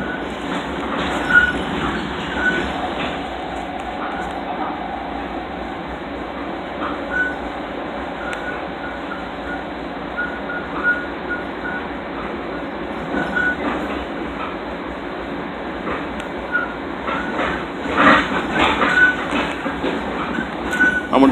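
A Long Island Rail Road train running along the main line, its steady rumble and clickety-clack heard from inside the car for a long stretch, with brief squeals near the end.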